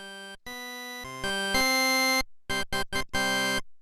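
A chip organ synth preset plays a bright, buzzy chiptune lead in the style of video-game music. The notes are loud and close, with a short stepping run that ends in a burst of quick staccato notes.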